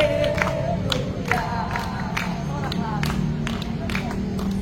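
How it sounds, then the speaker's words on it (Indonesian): A church congregation shouting and cheering hallelujah in praise, a loud crowd roar with scattered claps and voices throughout, dense and sustained. "Kami mau bersorak tinggikan nama Tuhan."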